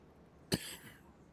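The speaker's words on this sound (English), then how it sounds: "always makes me cough." A man coughs once, sharply and close, right after a nebulizer treatment for wheezing, with a short raspy tail fading into quiet.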